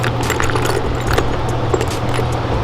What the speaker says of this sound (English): A bunch of random ass bolts.